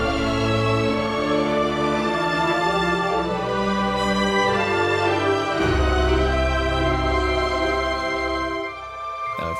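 Lush orchestral Disney medley passage: sustained violins and strings swell beneath a flute-like lead, with harp and celeste colouring the texture, playing continuously and fairly loud before easing slightly at the end.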